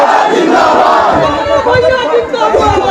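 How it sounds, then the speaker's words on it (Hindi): Dense crowd chanting and shouting slogans for candidate Sonu at a village mukhiya election nomination rally, a loud continuous roar of many voices close by with rhythmic chant peaks. "हर जगह सोनू सोनू की नारे लग रहे हैं"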